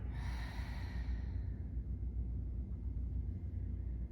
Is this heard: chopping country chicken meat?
no